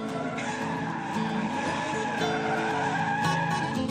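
Cars drift at the Red Bull Car Park Drift event, tyres skidding and squealing loudly over roaring engines in a continuous, dense, close burst of noise.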